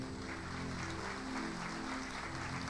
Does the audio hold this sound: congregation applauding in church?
yes